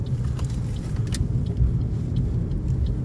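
Road traffic in the suburban town centre of Högdalen, south of Stockholm, Sweden: a steady low rumble of cars passing at moderate distance, with faint higher clatters and no talk.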